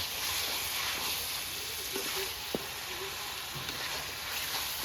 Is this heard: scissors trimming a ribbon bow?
no